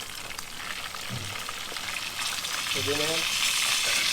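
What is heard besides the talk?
pork frying in a pan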